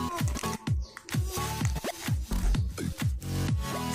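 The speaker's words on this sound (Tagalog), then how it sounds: "gamit tayo ng gunting." Scissors cut open the packaging of a bike hub, ARC MT-006 mountain bike hubs, in a run of close, loud crunchy snips and scraping plastic rasps repeating quickly, with no talk.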